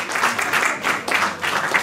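Comedy-show audience applauding in answer to a comedian's question, a short close burst of dense clapping that holds steady for under two seconds.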